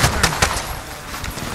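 Gunfire in Call of Duty Warzone, a rapid string of sharp, loud shots in quick bursts, close and crackling, fading into scattered fainter pops.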